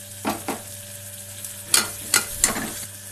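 Masala for a stuffed eggplant curry fries in a pan under a soft sizzle, with about six sharp scraping stirs of a spoon at uneven intervals.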